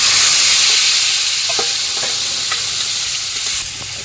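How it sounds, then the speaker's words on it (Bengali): Tomato, onion and cashew frying in hot oil for a prawn coconut recipe give a loud, steady sizzle. It is close and continuous, broken by occasional stirring scrapes, and no one speaks. "তেলটা গরম হয়ে গেছে এখন দিয়ে দিচ্ছি টমেটো পেঁয়াজ আর কাজু পেঁয়াজ"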